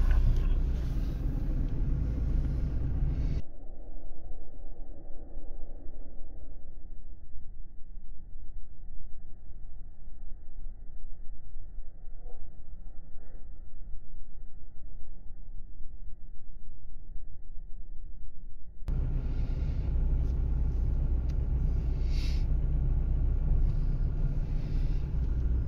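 Cabin noise inside a Toyota Hilux driving at about 40 km/h on a test course: a steady low road and engine rumble drones throughout, near and continuous, and turns noticeably muffled through the middle stretch.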